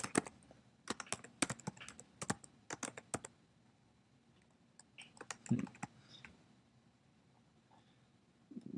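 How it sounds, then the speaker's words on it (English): Quiet keystrokes on a computer keyboard while a Google search is typed, irregular bursts of clicks at close range with short pauses between them. "when you type in something into Google, it brings down suggested searches"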